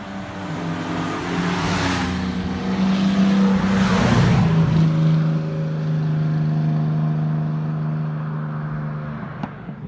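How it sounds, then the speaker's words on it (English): An original 1960 Ford GT40 Le Mans race car drones loudly and steadily nearby, its engine note rising slightly around the middle, then easing off toward the end. "This is an original Le Mans Racing 1960 GT40, so not a replica, not a kit car"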